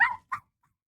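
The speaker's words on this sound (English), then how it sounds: "Barking dogs" Two quick, close dog barks, the first slightly longer, then silence.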